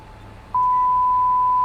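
A steady electronic censor tone cuts in abruptly and holds loud and unbroken over muffled speech in a Farming Simulator 22 multiplayer session.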